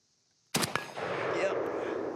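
A Galil ACE Gen 2 rifle fires two or three sharp, loud shots in quick succession at outdoor targets, followed by a lingering echo and rumble.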